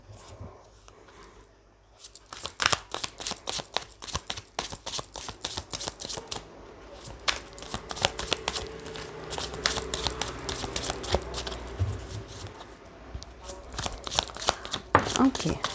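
A tarot deck is shuffled by hand in rapid, crisp riffling bursts after a quiet start, continuing through most of the stretch, with someone speaking softly over parts of it.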